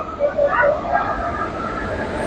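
A Nagarsol SF Express passenger train, number 12787, rumbles along steadily, its low rolling drone mixed with faint tonal whine; no one speaks.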